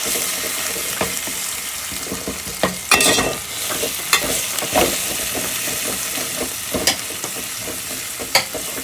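Ginger garlic paste fries in a pan for soya dum biryani, a steady sizzle carrying throughout with a few sharp louder scrapes and clatters of stirring, no talking.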